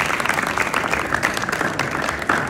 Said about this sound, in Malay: Tepuk tangan dia lah.